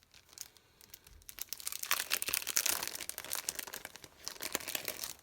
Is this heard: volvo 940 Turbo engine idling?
no